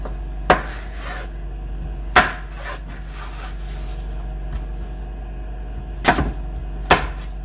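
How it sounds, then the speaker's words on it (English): A sharp knife cuts through an apple on a board, giving a few separate crisp thunks and slicing strikes spaced across a quiet kitchen background with a steady low hum. "if your knife is sharp enough, it'll slide right in between those layers and get you a nice cut in half that way"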